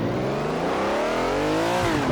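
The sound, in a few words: Ferrari Daytona engine accelerating off the line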